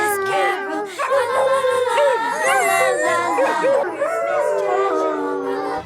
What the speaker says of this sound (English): He starts singing, and then all the dogs start singing.